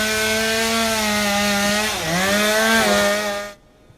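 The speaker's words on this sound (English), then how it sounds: "the video posted to social media shows two men dismantling a deck between two buildings in the Outer Battery with chainsaws" Chainsaws cut through a wooden deck between two buildings in the Outer Battery. A steady, droning engine whine dips briefly under load, then cuts off abruptly near the end, with no talking.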